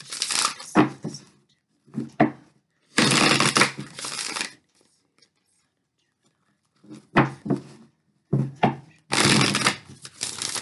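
Rebel tarot oracle cards are shuffled by hand in several rustling bursts of uneven length, separated by quiet pauses, fairly close and without talk.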